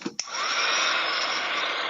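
A hair dryer blowing steadily to dry gesso on a journal cover, switching on after a brief click and then holding a loud, close, even whoosh.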